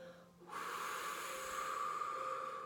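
A long, slow exhale hisses out steadily after a short pause while a woman in labor bears down and pushes. The breath is close, soft and continuous to the end.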